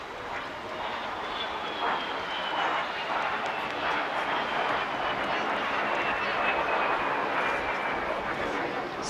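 A de Havilland Vampire twin-boom jet passes along the seafront at an airshow, a steady broad jet roar with a slowly descending whine, held at moderate distance throughout.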